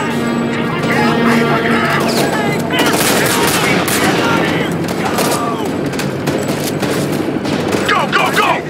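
Gunfire in the video game Homefront: The Revolution, a loud continuous firefight of overlapping shots and bursts with crashes and impacts, while voices shout over the din.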